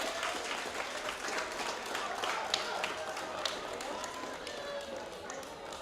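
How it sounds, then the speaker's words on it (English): Relay race teams and spectators applaud after a community college road relay, a lively outdoor patter of clapping from a scattered crowd, fairly soft and continuous, with voices mixed in. "Give yourselves a round of applause."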